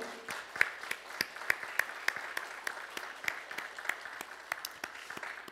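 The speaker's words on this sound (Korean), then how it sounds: "우리 한번 지금까지 지켜주신 하나님께 영광의 박수를 한번 올려드릴까요?" A church congregation applauds during a Sunday worship service, a sustained wash of many hands clapping at moderate distance, fairly soft, with no talking over it.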